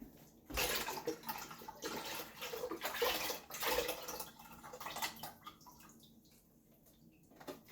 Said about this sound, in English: And I'm going to put water in this.